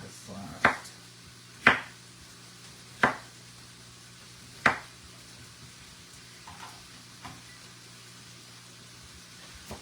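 A knife slicing potatoes for frying, heard as four crisp, distinct cuts followed by a couple of fainter ones, spaced irregularly over a quiet kitchen background.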